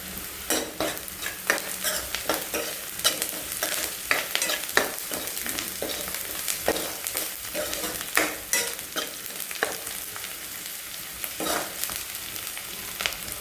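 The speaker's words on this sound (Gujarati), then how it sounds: "બે મિનિટ ડુંગળી શેકાવા દઈ." Salted onions frying in a pan, a continuous close sizzle with frequent sharp scrapes and taps of a spoon stirring in an uneven rhythm, and no talking.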